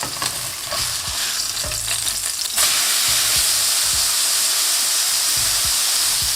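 Steak sizzling hard in a hot pan, a steady broadband frying hiss that swells louder after a clatter of the meat being flipped partway through, with no talking.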